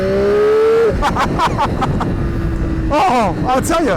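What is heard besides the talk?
Triumph Daytona 765 triple cylinder motorcycle engine accelerating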